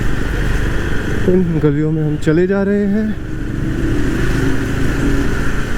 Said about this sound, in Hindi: एग्जॉस्ट का बहुत बढ़िया बेस आ रहा था, वहाँ पे इको आ रहा था।